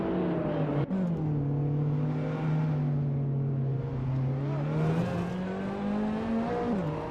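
Race cars in a video game scream past, one engine holding a loud steady whine with brief shifts in pitch while other engines drone beneath it.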